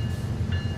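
An ES44-hauled freight train moving off on the Cajon route in Train Sim World 3 as its couplers stretch, heard as a continuous low rolling rumble with no voices.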